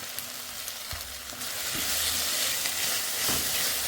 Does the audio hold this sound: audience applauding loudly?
no